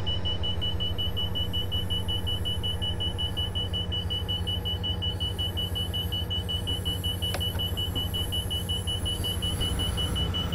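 A general alarm sounds in the cab of a Class 57 Freightliner locomotive in Train Simulator 2015 on the GEML line. It is a steady, piercing tone that holds unbroken over a loud, continuous engine rumble.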